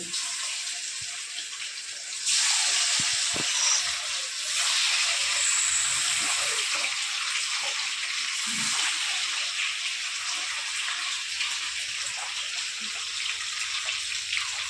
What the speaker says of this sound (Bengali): তেলে বাদ বাকি মাছগুলো আবার ভেজে নেব